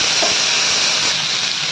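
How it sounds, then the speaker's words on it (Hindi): Cumin seeds sizzle in hot ghee in a pan on a gas stove, making a steady, bright, close frying hiss with no voices. "तो मैंने घी डाल दिया, थोड़ा सा जीरा डाल दिया है।"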